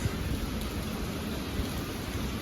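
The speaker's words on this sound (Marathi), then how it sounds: "माझ्या बड्डेच्या दिवशी पाऊस किती पडतोय बघू शकता" Steady rain pours down outdoors in a continuous even hiss, with no pauses.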